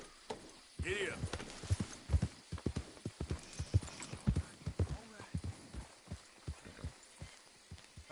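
Horse hooves clip-clop at a steady galloping rhythm in the open-world western game Red Dead Redemption 2, close and fairly loud, with a brief whinny near the start and someone talking over the hoofbeats.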